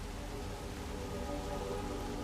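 Steady rain falls in Hitman: World of Assassination, a dense, even hiss of drops on surfaces with no other sounds or talk over the short stretch.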